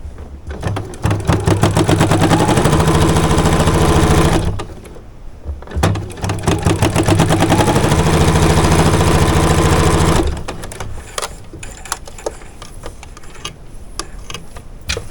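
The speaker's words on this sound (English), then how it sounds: "And then we can just start flipping and sewing again." Sewing machine stitching fabric for a weighted heat neck wrap, running in two steady bursts with a short pause between, then stopping into quiet handling noise.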